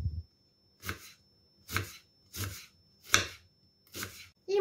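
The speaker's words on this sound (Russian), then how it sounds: "Теперь я нарежу лук. Нарежу я его полукольцами, не слишком мелко." An onion is cut into half-rings with a knife, six distinct, evenly spaced slicing strokes landing close and crisp against a quiet background.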